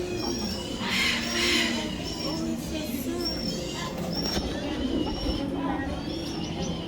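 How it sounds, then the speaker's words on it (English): Pigeons and doves coo repeatedly at an aquarium bird exhibit in Austin as people feed them, with a continuous hubbub of voices and chatter around them. "So you feeding doves?"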